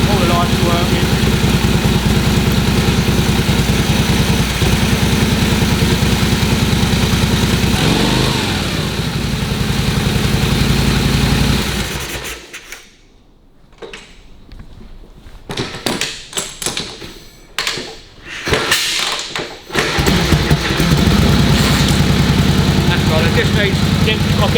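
A Harley WL motorcycle engine idles loudly and steadily while warming up, drops away briefly amid clatter and handling noises, then settles back into its even idle.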